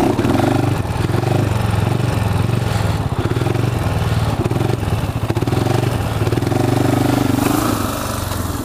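A four-wheeler's engine roars close and loud as it's pulled into a wheelie, revving and rising and falling steadily throughout with a rough, throaty drone.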